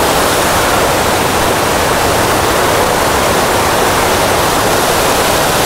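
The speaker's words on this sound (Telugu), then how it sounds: "అక్కడ వాటర్ఫాల్ ఉంటుంది, ఆ వాటర్ఫాల్ కింద స్నానం కూడా చేయొచ్చు" The Molkanpad waterfall near Zaheerabad, swollen in the rainy season, roars as a loud, constant, close wash of falling water with no breaks and no voices.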